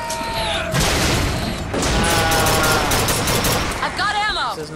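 Rockets fire and explode amid heavy gunfire in a Bioshock Infinite battle, loud booming blasts and crashes with whistling, sweeping tones, and a voice shouts over the chaos.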